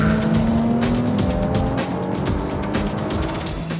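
A Lotus Evora S drives hard on the Lotus test track, its engine note loud and continuous with steady high-pitched whine and a brief tire squeal, close and dominant throughout.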